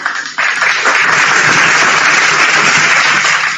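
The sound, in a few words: congregation applause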